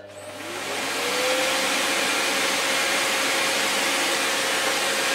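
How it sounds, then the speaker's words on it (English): Lux 1 Royal D820M vacuum cleaner with its power nozzle switching on, a rising motor whine that settles into a loud, steady airy roar close by. "And then the power nozzle works."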